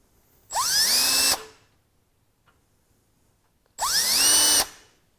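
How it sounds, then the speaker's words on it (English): A power drill bores holes for stainless steel safety wire in two separate bursts, each rising quickly in pitch to a steady high whine for just under a second, with a quiet pause between them. "we'll finish up drilling these holes out"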